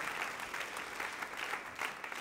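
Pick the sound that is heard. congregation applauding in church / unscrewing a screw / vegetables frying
congregation applauding in church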